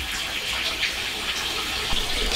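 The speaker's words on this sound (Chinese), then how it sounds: "猪尾巴冷水下锅" Water gushes steadily into a pot as pork tails are set in cold water to blanch on a rural wood-fired stove, a continuous close splashing rush.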